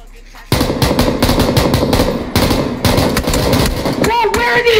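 Automatic gunfire bursts in the video game PUBG: rapid, loud stuttering shots in repeated bursts over about four seconds, dense and close, with game sound effects toward the end.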